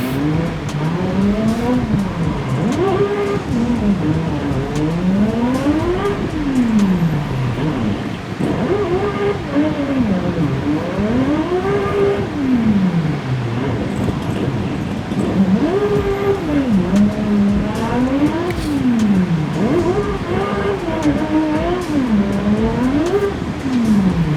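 Nissan S13 race car lapping an oval in a racing simulator game, its engine steadily rising and falling through repeated revs and gear shifts, loud and continuous with no talking.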